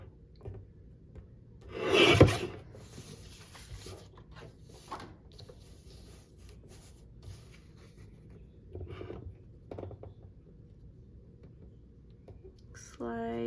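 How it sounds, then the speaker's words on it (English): A cutter slices through glued paper craft pieces in one close, sharp scraping stroke, followed by faint rustling and handling noises while a voice speaks quietly. "I'm just gonna cut these to where I've kind of glued them"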